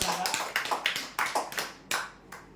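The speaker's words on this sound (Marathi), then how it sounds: "जोरदार टाळ्या होऊ द्या" A small crowd at a lottery prize draw event claps in a few loose bursts, moderately near, each swell fading before the next round of hand claps.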